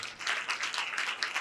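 Congregation clapping at a church service, a dense, steady wash of many hands that holds at a fairly even loudness with small surges throughout.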